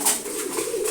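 Pigeons coo softly while feeding close by, a low steady murmur running through the whole moment with no voices over it.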